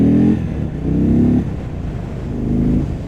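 An Indian Chief Dark Horse motorcycle engine accelerates in three surging pulls, each rising in pitch before easing off. The engine sounds loud and close, with a rough low rumble between the bursts.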